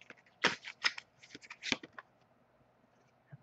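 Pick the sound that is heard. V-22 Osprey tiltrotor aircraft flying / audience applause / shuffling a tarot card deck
shuffling a tarot card deck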